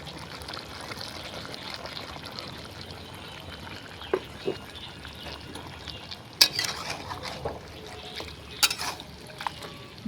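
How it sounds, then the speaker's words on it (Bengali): Spicy mutton curry being stirred in a pan at home, with soft wet scraping and shuffling over a low background, broken by a few louder clinks and knocks of the spoon against the pan. "ভালো করে নেড়ে চেড়ে দেবো।"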